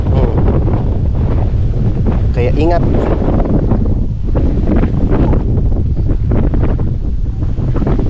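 Loud, constant wind roaring and buffeting against the microphone on a steep slope, with a person speaking briefly beneath the gusts.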